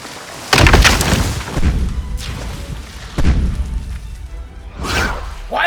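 Heavy cannon fire striking a wooden sailing ship during a pirate battle, a dramatized effect: several loud booming impacts with crashing debris and whooshes, one big hit after another over rumbling low noise, with a brief voice.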